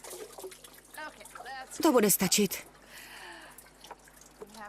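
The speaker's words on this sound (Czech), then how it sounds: "Nabereme vodu." Water drawn from a well trickles and drips, with a brief splashing burst in the middle. People talk over it before and after.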